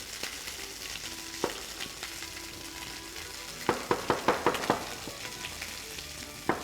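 Fish frying skin-side up in a hot pan for an Armenian home-cooked meal, a steady close sizzle with a cluster of sharper spits and crackles toward the end.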